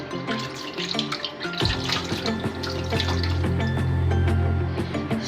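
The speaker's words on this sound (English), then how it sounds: "Now I'm just gonna rinse this off." Running tap water at a bathroom sink while a face is rinsed off after a honey skin-care wash, a steady close splashing flow that swells louder midway and continues throughout without talk.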